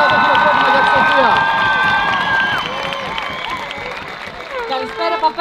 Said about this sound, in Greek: Ένα πολύ δυνατό χειροκρότημα για τη Σοφία!